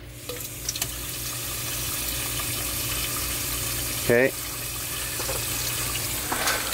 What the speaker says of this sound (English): if I turn on the water into this chamber